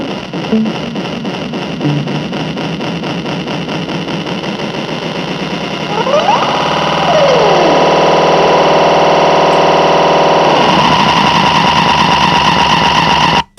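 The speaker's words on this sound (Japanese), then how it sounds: "これでディレイタイムいじるとニョニョニョニョってやつですよね。" An electric guitar tone through a Limetone Audio buddy delay pedal, with the echoes sweeping and warping in pitch as the delay time is changed, then settling into steady repeats.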